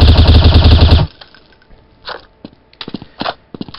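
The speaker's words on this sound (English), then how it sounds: "So this is me firing, standing up, holding it, and not compensating for anything." Gunfire from Counter-Strike Source, fired standing: a loud, rapid automatic burst for about a second, then stops. Scattered clicks, shuffles and weapon handling noises follow.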